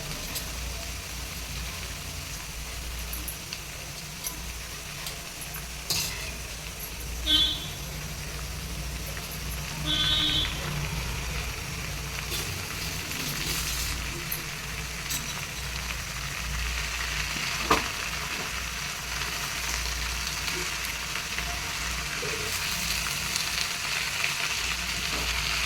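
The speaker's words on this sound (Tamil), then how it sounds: "இதை நல்லா வதக்கணும்." Paruppu keerai, a spinach dish, sautés in a pan with a steady, close sizzle and frying hiss, broken by occasional scraping stirs and small clinks of the utensil against the pan, with no one speaking.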